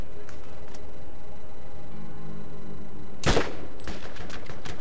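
Gunfire in the video game Borderlands: faint scattered shots, then one loud sharp blast, followed by a few quicker shots.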